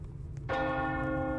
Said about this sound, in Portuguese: Para de tocar esse sino, que eu já tô com medo.